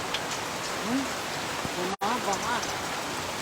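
Heavy rain pours steadily onto surfaces around a home garden of plants, a dense constant hiss with a brief dropout, while a person speaks intermittently over it.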